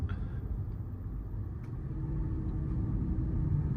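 A 2018 Mercedes-Benz Maybach S650 with its V12 cruises along, giving a steady, smooth low rumble of engine and road noise that swells slightly toward the end, with no voices.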